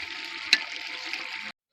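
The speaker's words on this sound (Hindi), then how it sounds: "मैंने 2 गिलास पानी शामिल कर लिया है।" Water streams from a glass into a pot of fried beef korma, a steady pour that runs for about a second and a half and then stops abruptly, with a brief knock near the start.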